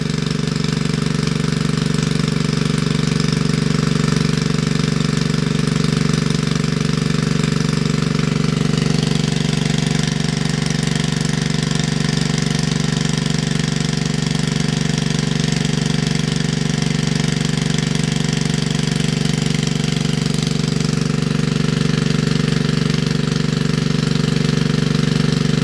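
An O'Mac MP 2500 motor pump runs outdoors at modest revs, its small engine giving a loud, constant mechanical drone with a rapid knocking chatter that never changes for the whole stretch.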